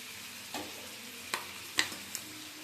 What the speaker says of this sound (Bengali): আদাটাকে একটু ভাজা ভাজা করে নিচ্ছি হালকা করে